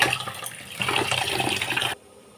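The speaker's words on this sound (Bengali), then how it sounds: "চালটা ধুয়ে নিই ভালো করে" Rice being washed in water in a home kitchen: steady splashing and rushing water for about two seconds, then cutting off abruptly to near quiet.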